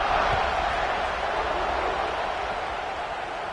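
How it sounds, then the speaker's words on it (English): A football stadium crowd at a college game between Oklahoma and Georgia buzzes after a touchdown, a dense steady roar that fades slightly over a few seconds beneath a commentator's voice. "this crowd is buzzing after that last score"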